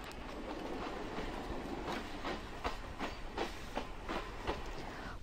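A train runs along rails in Sri Lanka, a steady rumble with a string of rhythmic clickety-clack wheel beats over the joints, moderately close and alone with no talk.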